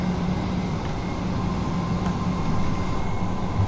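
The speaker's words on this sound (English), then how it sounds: "I love the sound of trains at speed." A train in Train Sim World 2 runs at speed on a Greater Anglia line, giving a steady, loud rumble with rhythmic rail clatter throughout.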